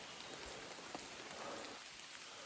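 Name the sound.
rain falling on a rainy morning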